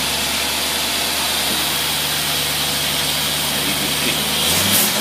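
A marine boat engine fitted with an AFB 750 carburetor runs loud and steady with no load, then rises in pitch as it revs up near the end; someone speaks briefly over the engine noise.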